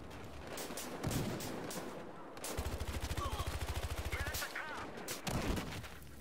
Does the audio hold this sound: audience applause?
no